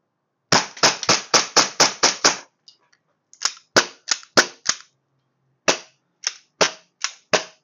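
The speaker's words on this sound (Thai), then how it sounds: "มันยิงแล้วสไลด์มันค่อนข้างลื่นไหลเป็นธรรมชาติดีนะครับ" A pink .45 gas blowback airsoft pistol fires sharp, loud cracks: a rapid string of about eight shots, a short pause, then two more uneven bursts of single shots.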